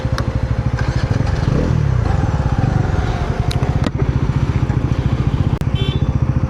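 A Bajaj Pulsar NS400Z naked street motorcycle riding with a steady, loud, rhythmic engine thrum and rushing wind noise close up, with a few faint clicks over it.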